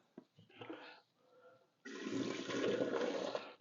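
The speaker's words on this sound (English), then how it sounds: "The blender's hot. You can feel it. And I'm going to pour it out." Hot cleaning water poured out of a blender jar after making peanut butter, a soft clatter and trickle at first, then a loud steady rushing gush of water into a sink that runs to the end.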